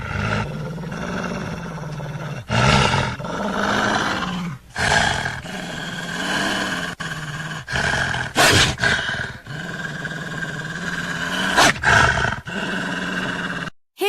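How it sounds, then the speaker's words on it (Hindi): A wolf growls and roars from behind bushes in a dramatic story scene, several long loud snarling bursts in quick succession with brief gaps, close and forceful, with no talking. "तभी अचानक उसे झाड़ियों के पीछे से किसी जानवर के गुर्राने की आवाज आती है।"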